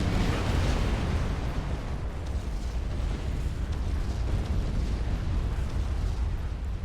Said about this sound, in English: Get a nice little shot of that nuke connecting.